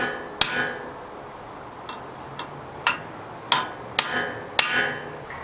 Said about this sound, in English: stake down the portion of the hub nut onto the drive axle so the hub nut won't slip.